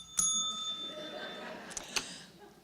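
A bell rung by the timekeeper at a domestic violence education and prevention forum gives one bright ding that rings on, followed by a couple of softer metallic taps and faint room noise.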